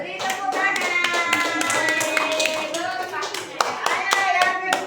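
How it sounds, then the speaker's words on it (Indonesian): Children in a classroom clap together in uneven, loose bursts of distinct hand claps, with high-pitched children's voices and chatter mixed in. "Ayo pada tepuk tangan."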